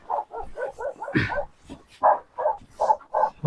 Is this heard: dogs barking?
yes